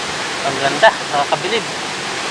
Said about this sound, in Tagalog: Na para ba siyang tubig na dumadaan sa mga hagdan ng bato.